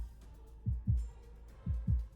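Heartbeat effect in a dramatic romance audio story, two pairs of deep thumping lub-dub beats at a slow, steady pace, prominent against a faint background.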